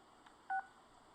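A single short telephone dialing tone from the video game Persona 4 beeps once, faint and clean, over a low steady hum.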